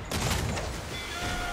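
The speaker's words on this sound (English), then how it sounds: "we've incapacitated the ship with a chain shot" Cannon firing chain shot at a ship in Assassin's Creed Black Flag: a dense, booming volley of blasts at the start, followed by a lingering rumble and crackle with faint tonal game sounds, no talk.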